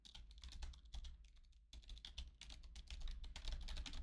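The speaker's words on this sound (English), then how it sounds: "Sorry if you hear me typing." Steady typing on a computer keyboard, close and continuous with irregular clicky bursts and a brief pause, with no talking.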